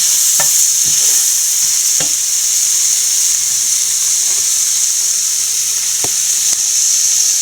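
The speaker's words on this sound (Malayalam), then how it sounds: "കുറച്ച് കുരുമുളക് പൊടി, ഗരം മസാല നല്ലപോലെ വഴറ്റി കൊടുക്കാം" Pepper powder and garam masala sizzle loudly in hot oil in a pan for egg biryani, a steady close frying hiss with occasional scrapes and taps of a stirring spoon, no voices.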